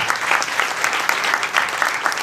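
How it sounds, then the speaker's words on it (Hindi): Loud, sustained congregational applause fills a church camp gathering, steady clapping from many hands with slight swells and no voices standing out. "एक बार फिर से ताली बजाते हैं प्रभु के लिए जोर से"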